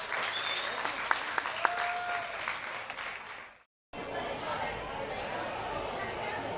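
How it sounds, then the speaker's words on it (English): Audience applause at a village festival weekend prize-giving, a steady crowd clapping that runs at an even level, breaks off into brief silence, then resumes just as full, with a few sharp claps and a faint whistle standing out early on. "Big round of applause."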